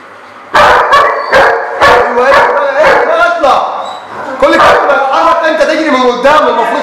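A four-month-old young dog barks during attack-alert training, a rapid series of loud, close yaps and barks with brief gaps, breaking off briefly midway before resuming.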